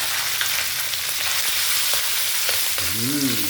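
Sliced pork dropped into a little hot oil in a pan sizzles and crackles steadily, close by, with a brief stir or scrape toward the end.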